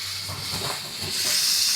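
Cleaned prawns hit a hot pan, giving a steady broadband sizzle that swells louder toward the end, close and continuous with no talk.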